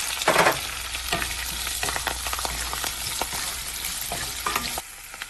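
Sliced onions and curry leaves fry in a hot pan with a steady, close sizzle and scattered crackles, broken by a few stirring scrapes, with no talking.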